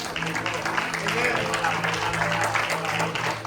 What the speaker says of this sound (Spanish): Vamos a darle un fuerte aplauso al Padre, al Hijo y al Espíritu Santo.